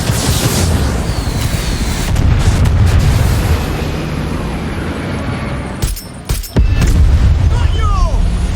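A barrage of homing missiles launched from a spine-mounted backpack in the Far Cry 6 video game, loud rumbling explosions rolling together continuously, with a brief drop-out and renewed blasts near the end.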